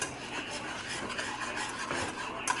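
Melted butter being whisked into homemade sweet and tangy barbecue sauce, a steady close scraping and stirring of a whisk against a bowl with no talking.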